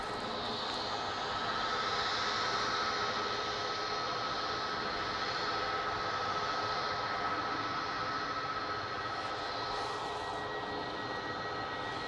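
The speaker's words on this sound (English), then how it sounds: "This is flight EY75, just about to touch down on 23 right" Etihad flight EY75 touches down on runway 23 right at Manchester Airport. A sustained jet roar with a thin steady whine rides through twelve seconds, fairly loud and even, without talk.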